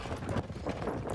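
Shire horses trotting at a national show, their heavy hooves clip-clopping in a steady, close rhythm on the ground, with a few muffled ambient noises around them.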